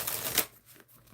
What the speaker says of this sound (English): It's a cool deck. It shuffles great.